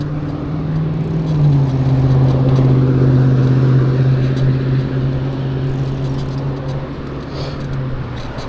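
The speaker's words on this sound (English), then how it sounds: "Here comes cars." Cars passing on a road beside a bike trail, a steady loud engine drone that swells as a vehicle goes by close, then continues as traffic hum.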